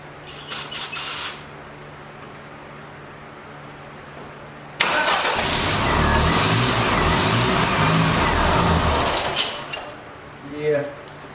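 A 1989 Dodge Daytona ES, believed to have a failed fuel injector, turns over on its starter in a sustained loud burst lasting several seconds after a quieter stretch, then cuts off; brief voices appear near the start and end.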